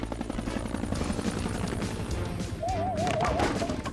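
A cartoon helicopter from PAW Patrol hovers with a steady, loud rotor drone throughout, joined near the end by a wavering whistle-like tone.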